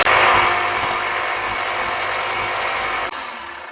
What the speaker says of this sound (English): Alright, we're at the blade runner now, and it shouldn't be any trouble to trim these off the rest of the way.